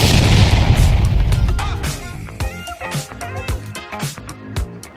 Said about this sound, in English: we both exploded